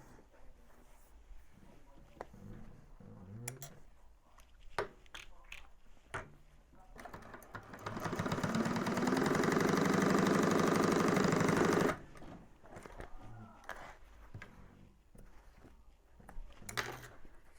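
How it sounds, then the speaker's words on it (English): A sewing machine top stitches black fabric on a convertible bag lining, one steady rapid whirring run of about four seconds, close and clear, with quiet handling noises before and after. "Press towards the bottom, top stitch through the bottom piece."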